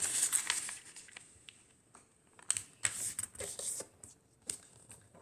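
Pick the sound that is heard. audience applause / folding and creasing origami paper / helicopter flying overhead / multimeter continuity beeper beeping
folding and creasing origami paper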